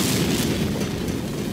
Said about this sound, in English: how the hell does Delia even get away from that explosion?